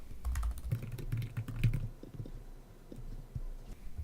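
Someone types a message name on a computer keyboard: a quick burst of clicking keystrokes at first, then slower scattered taps, close and clear without speech.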